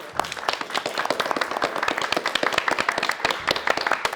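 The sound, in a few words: studio audience applause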